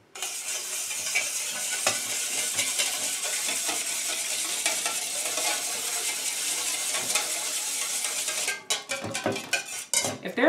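Whisk rattles briskly against a bowl while mixing a ginger coating for potatoes, a fast continuous scraping and clinking close by that stops with a few louder knocks near the end.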